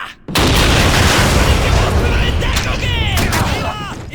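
An enemy grenade explodes in Call of Duty 2, a sudden loud, close blast that roars and rumbles for several seconds, with shouted voices and whistling debris or ricochets over the tail.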